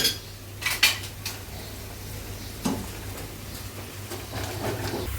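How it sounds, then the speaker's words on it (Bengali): Cooked lentil dal being mashed in a pot, with metal utensil clinks and knocks against the pot, a few sharp taps early and scattered scraping afterward over a low steady kitchen hum. "এখন ডালটা ঘুটে দিই।"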